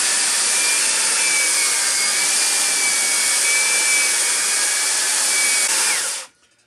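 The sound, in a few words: belt sander sanding maple meat cutting boards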